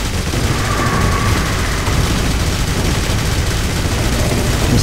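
Sustained, loud gunfire from the shooter game Jericho during a blood-sucking boss fight, a dense continuous barrage of rapid shots filling the whole stretch with no pauses.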